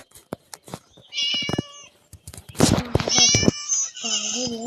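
A cartoon cat meows repeatedly in the Scary Teacher video game, with a run of clear, close meows in two bursts separated by short clicks and game noises.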